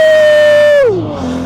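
A Nissan Cefiro with a swapped RB25 engine screams at high revs, holding a loud steady whine before the pitch drops sharply as it shifts or lifts off, close and intense.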